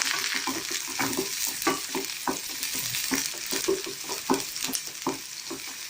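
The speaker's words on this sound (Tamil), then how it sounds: "சின்ன வெங்காயம் போட்டால் நல்லாயிருக்கும், அதனால சின்ன வெங்காயம் சேர்த்துக்கிறேன்" Small onions fry in hot oil for a spleen gravy, a continuous close sizzle broken by frequent scraping stirs of a spoon against the pan, with no talking.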